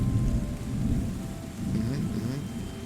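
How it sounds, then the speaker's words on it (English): Steady rain with rolling thunder in the video game Terra Nil, a dense low rumble swelling and easing over a continuous wash of falling rain, fairly loud and with no talk. "It's so rewarding when you get the rain."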